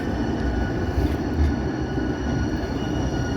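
A Portland MAX light rail train passes close by with a continuous loud rumble and wheel noise, with faint squealing riding over the steady roar and no voices.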